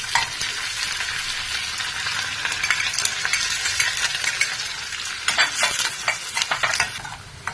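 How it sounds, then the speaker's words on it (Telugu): Loud, busy sizzling of tempering spices, green and dried red chilies, and onion frying in hot oil with crackles and pops, plus occasional scraping of a utensil in the pan. "ఈ పోపు దినుసులన్నీ, ఈ ఆనియన్ అన్నీ బాగా వేగిపోయినాయండి"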